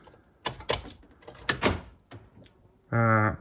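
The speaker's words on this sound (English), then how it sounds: "so there you go, unlocked the doors." Kia Venga central locking unlocking the doors: a few soft clicks and rustles, then a loud buzzing actuator whirr near the end, close up and without speech.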